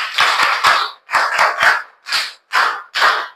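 Children at a school quiz clap for the Zendu team in rhythmic unison, a series of loud, close bursts of group clapping with short gaps between them.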